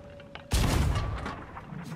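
A single deep cannon blast booms in the Sea of Thieves pirate game, loud and close, with a rumbling tail that fades over the next second and a half.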